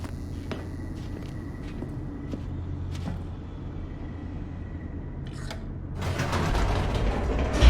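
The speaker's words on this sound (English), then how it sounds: "The elevator raced downward, plummeting towards an unknown fate." An elevator in The Stanley Parable descends with a steady low mechanical rumble, light creaks and clicks, swelling into a louder rushing whoosh near the end.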